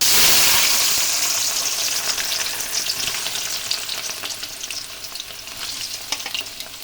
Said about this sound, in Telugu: నూనెలో ఎంతసేపు వేయించుతామా దీన్ని? అరగంట సేపు వేయించాలంట.